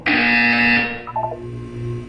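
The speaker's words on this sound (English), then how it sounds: "When you hear the buzzer, look up at the ceiling." A loud electronic buzzer sounds in the video game Portal 2: a bright, harsh tone that holds for almost a second and then gives way to a few short tones and a lower hum.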